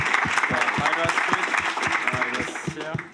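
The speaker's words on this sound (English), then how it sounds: "a round of applause" A round of applause from a small audience at a programming talk, loud close claps in a brisk, uneven rhythm with a murmur of voices underneath.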